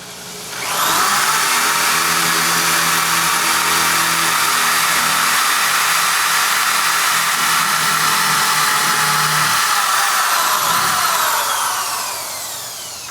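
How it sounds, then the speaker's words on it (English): A loud, steady power drill whine boring a hole into a wall for Bahama shutter installation runs for about eleven seconds, rising pitch at the start and winding down at the end, no voices. "We're going to go ahead and drill the first hole"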